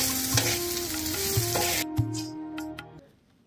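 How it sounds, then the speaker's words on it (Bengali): Finely chopped onions fry in oil in a wok for pulao, giving a loud, steady sizzle that drops off sharply partway through and then fades to near silence. "কড়াইতে তেল দিয়ে কুচি কুচি করে কেটে রাখা পেঁয়াজগুলোকে ভালো করে ভেজে নিতে হবে।"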